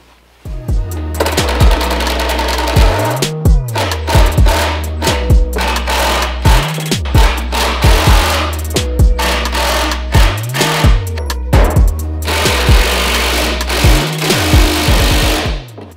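A power drill drives deck screws into a wooden table frame, giving loud, repeated bursts of whirring and grinding, each rising and then stopping abruptly, with brief gaps between screws.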